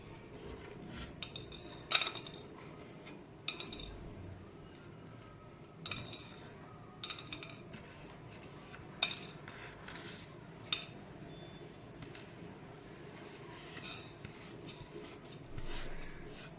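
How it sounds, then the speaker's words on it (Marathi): Dry whole garam masala spices being roasted in a hot kadhai on a gas stove, heard as scattered light metallic clinks and scrapes of a spoon against the pan, with quiet gaps between them. "त्यामध्ये मी हे गरम मसाले भाजून घेत आहे"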